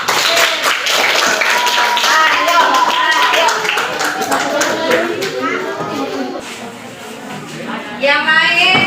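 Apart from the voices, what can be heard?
classroom clapping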